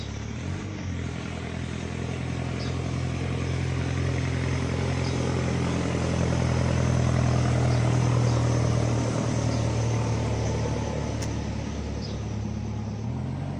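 A tractor engine drones steadily and loudly throughout beside a garden pond, its low rumbling hum swelling slightly in the middle, with faint bird chirps above it.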